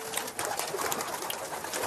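French army homing pigeons at Mont-Valérien in Suresnes coo in a loft, a close, dense chorus of soft throaty warbling calls overlapping continuously.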